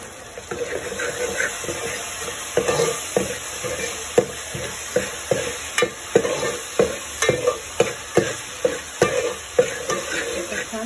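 Garlicky green masala paste frying in a pan for chicken bhuna gravy, with a steady sizzle and a run of sharp, rhythmic spoon-scraping strokes that grow more regular toward the end.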